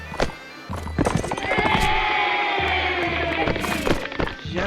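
A horse in the medieval battle game Mount & Blade Warband clip-clops in quick hoofbeats, while a whinny rises and falls over the rhythm and a voice talks alongside.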